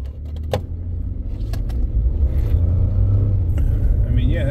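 A car pulling hard after a cylinder misfire repair, its engine rumble building and holding strong from inside the cabin, with brief clicks and rattles and a voice speaking over it.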